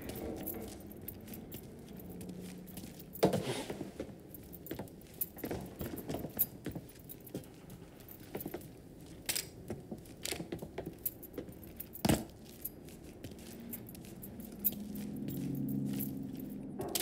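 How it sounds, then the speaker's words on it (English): Keys are picked up and jangled in the Mafia 3 video game, with metallic clinks and rattles scattered through the scene and a couple of sharper jingles standing out over quiet background ambience. "Lincoln, pick up the keys."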